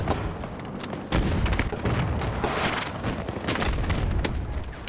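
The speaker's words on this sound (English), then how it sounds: "how are they shooting me?" Video game gunfire in a battle, a loud burst of shots and booming impacts that swells after a second and keeps rolling with scattered cracks.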